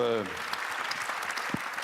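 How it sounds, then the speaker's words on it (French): Brief applause from a seminar audience on urban agriculture, starting just as a voice finishes speaking and continuing steadily for under two seconds. "on peut vous applaudir"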